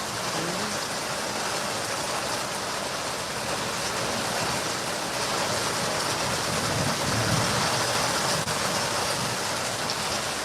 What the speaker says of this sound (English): a lot of times when I hear thunder like that